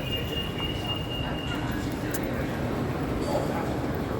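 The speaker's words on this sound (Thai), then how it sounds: "รถไฟฟ้าใต้ดินจ้ะพี่น้อง" Steady low rumble of an underground metro train running, a constant dense roar with a faint high whine, loud and continuous throughout.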